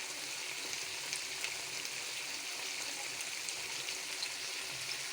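Two medium onions fry in hot oil in a pot for chicken kadai, giving a steady, even sizzle and crackle throughout, close and moderately quiet with no talking.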